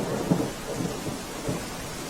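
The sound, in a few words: heavy rain and thunder in Jamnagar district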